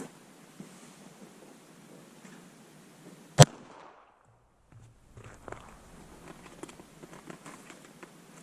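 A single sharp gunshot cracks out against a Zippo lighter used as a target outdoors, one loud isolated report over steady wind and surf-like background noise, followed by a brief hush.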